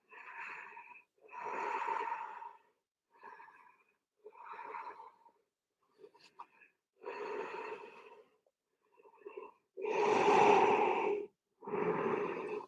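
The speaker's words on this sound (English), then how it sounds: "Inhale and exhale deeply." Deep, slow breathing during a vinyasa yoga flow, a series of long inhales and exhales in uneven bursts with pauses between, close and fairly loud, the last breaths the strongest, with no talking.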